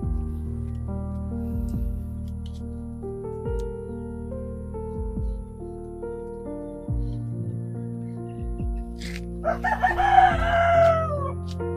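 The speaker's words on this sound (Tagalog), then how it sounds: "Marami kayong manok pala dito?" Chickens at a rural coop beside an old man's hut cluck softly under a droning tone, then a rooster crows loudly near the end.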